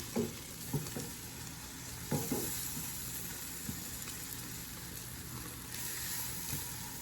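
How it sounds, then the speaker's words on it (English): Salami sizzles and crackles in a frying pan, a steady quiet hiss with occasional clicks and scrapes, and no one talks over it. "And we have our salami cooking over here."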